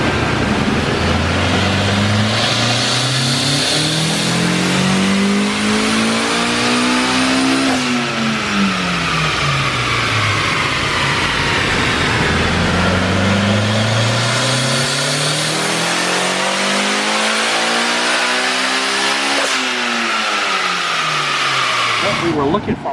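A Honda S2000 with a V6-type engine makes two dyno pulls indoors, each a loud, steady engine rise that climbs in pitch for several seconds and then cuts off sharply before the next run begins.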